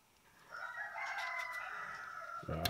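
A rooster crows once, fairly close, its call rising and holding before a brief clatter at the end; no one speaks.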